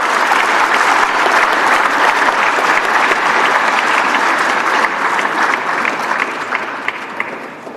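Startup festival audience applauding a contest winner, loud dense clapping from a large crowd that runs steadily and then tapers off near the end.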